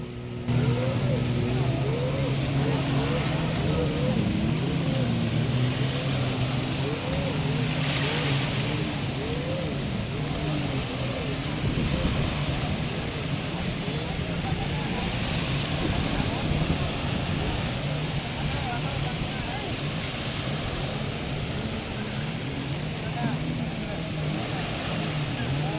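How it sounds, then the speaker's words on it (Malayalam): A jet ski runs on the sea off Pattaya Beach, Thailand, with its engine droning steadily and close by for the whole ride. Its pitch shifts a little with the throttle, and a voice talks over it near the start. "അപ്പം നമ്മുടെ ജെറ്റ് സ്കീ റൈഡ് ഇവിടെ സ്റ്റാർട്ട് ചെയ്യുവാണ്."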